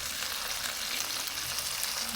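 Garlic sizzles steadily in a hot pan for a vegetable cook-up with coconut, a close, continuous bright frying hiss with no voices.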